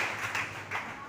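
Congregation at a Spanish-language church service clapping in a short burst of scattered, close hand claps lasting about a second.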